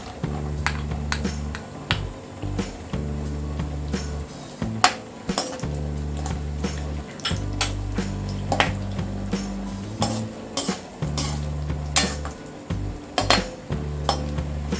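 Cashews and raisins frying in a pan, stirred with a metal spoon that clinks and scrapes against the pan in irregular, close strokes over a low, steady sizzle.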